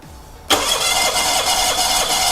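A petrol car engine with a leaking valve fires up abruptly after a brief crank and settles into a loud, steady idle, with no talking.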